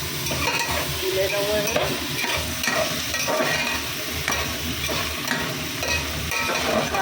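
Eggplant sizzles steadily in hot oil in a pan while a utensil stirs and scrapes through it in repeated strokes, close and fairly loud, with a brief spoken remark over the cooking.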